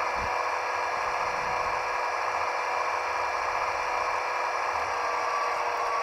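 HO scale Athearn Genesis SD80MAC diesel locomotive with a Tsunami 2 DCC sound decoder, notched up, giving a steady, moderately quiet engine drone with a constant hum and no voices.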